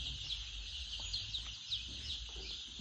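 Young poultry chicks in a farm shed give a faint, continuous high chorus of peeping and chirping, with soft background rumble and no talk.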